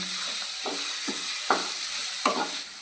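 Ivy gourd curry with coriander being stirred in a pan: several distinct scraping strokes over a steady, soft sizzle, close and fairly quiet.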